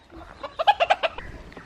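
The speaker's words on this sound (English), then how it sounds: "This morning the chickens were in the garden" Chickens in a garden clucking nearby, a quick burst of about five sharp clucks in a row, then quieter sounds trailing off.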